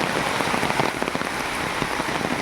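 Heavy rain pours steadily and loudly, a dense unbroken hiss of water drumming on surfaces with scattered louder drops, close by and without any voices.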